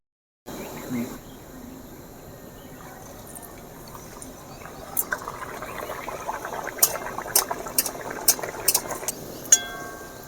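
Pea-stuffed kachori fry in hot oil as oil is splashed over them, a continuous crackling bubble rising in intensity with sharper pops and spatters toward the end, close and fairly loud.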